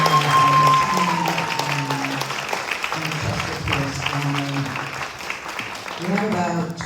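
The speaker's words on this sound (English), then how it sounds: "So I just want to give another round of applause." A crowd applauds steadily throughout, with music or tones mixed underneath; the clapping stays dense and moderately loud from start to finish.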